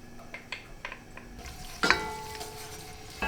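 Onion and garlic sautéing in oil for ribollita bread soup, with a low, soft sizzle under sharp clinks and scrapes of a utensil against the pan, one louder knock near the middle.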